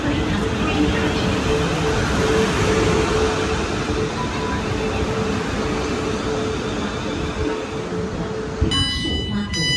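Inside a Class 450 passenger train, a steady rumbling ride with a low hum and dense rolling noise runs throughout, ending with a brief electronic chime.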